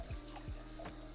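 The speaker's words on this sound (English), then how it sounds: "I'm done washing the dishes." Water runs from a tap while dishes are washed, a quiet, steady flow with a few soft splashes and no talking.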